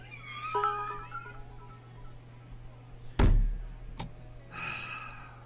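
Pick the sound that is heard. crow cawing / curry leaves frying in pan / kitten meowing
kitten meowing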